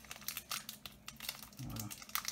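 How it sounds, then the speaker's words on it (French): Pokémon card booster pack wrapper being struggled with and torn open, close crinkling and crackling plastic foil in short bursts, with a voice speaking over it. "Du mal à s'ouvrir ce booster."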